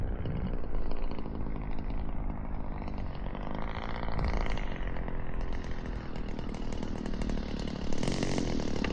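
The gas engine of an 81-inch Legend Hobby Super Chipmunk RC airplane with a Stinger 40 runs at low idle, a close, steady, rough buzzing drone with no talking over it.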